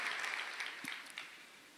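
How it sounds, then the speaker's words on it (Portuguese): A congregation applauds together in a large church hall, a dense and steady wash of clapping that tapers off slightly at the end. "Vamos aplaudir ao Senhor."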